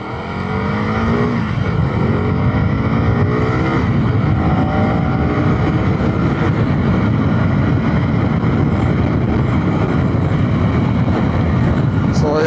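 A KTM Duke 250 Gen 3 motorcycle accelerates hard from 0 to 60, its engine note climbing through rising sweeps and gear changes, loud and steady throughout, with a voice talking over it.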